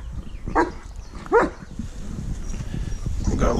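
Several dogs bark and whine in short bursts at a black rat snake in a yard, two sharp yelps standing out near the start before quieter barking and whimpering carries on underneath.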